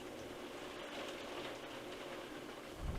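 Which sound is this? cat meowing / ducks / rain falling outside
rain falling outside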